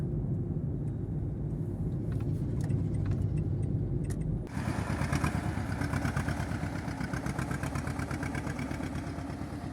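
A T-25 tractor engine runs steadily and close, its heavy rumble sharpening into a rapid rattling throb partway through as it revs up.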